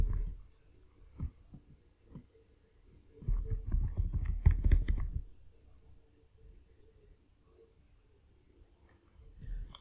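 Computer keyboard keys are pressed while entering commands in a Debian Linux terminal, heard as faint scattered clicks with a denser burst of quick typing in the middle and a few isolated taps near the end.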